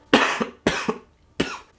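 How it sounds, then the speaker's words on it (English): Three harsh coughs, each a double burst, come close and loud, spaced evenly apart with quiet gaps between. "excuse me, I just got a cough."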